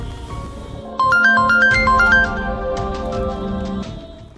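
A phone ringtone plays a quick melodic electronic tune, bright repeating notes over a low steady background hum.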